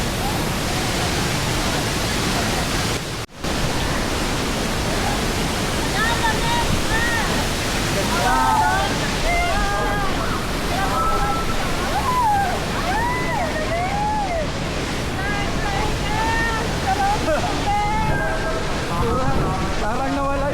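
Taytay Falls in Majayjay, Laguna roars as a steady, broadband rush of falling water, loud and continuous, with people's voices chattering faintly beneath it.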